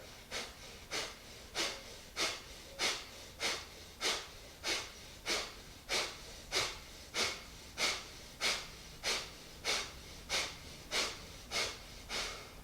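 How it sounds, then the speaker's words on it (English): Forceful yoga breathing exercise with the belly pulled in on each exhale: about twenty sharp, rhythmic nasal exhales, evenly spaced roughly every half second, close and clear, with no talking. "So the belly is being pulled in a lot as you exhale."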